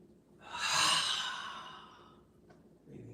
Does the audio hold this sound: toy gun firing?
no